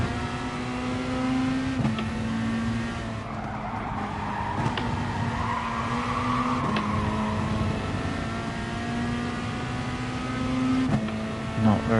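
Racing video game with a Volkswagen Beetle: a steady engine drone with pitch shifts at gear changes and repeated tire skids, loud and continuous for twelve seconds, with some background chatter.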